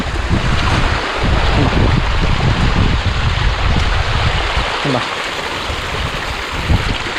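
Water tumbles down over rocks along a descending path at the Vamala viewpoint in Pallassana, a loud steady rushing wash close to the microphone with some wind buffeting, and no one speaking.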